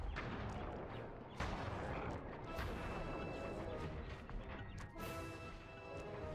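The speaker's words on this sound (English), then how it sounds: "We're dropping bombs like crazy." Bombs dropped in the video game Sly 2: Band of Thieves, a dense, continuous barrage of booming blasts and crashes with sharp impacts near 1.4 and 5 seconds, loud and unbroken throughout.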